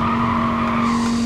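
Race car braking into a corner in the racing game Gran Turismo Sport, with a steady engine drone and a sustained tire squeal held close and loud throughout.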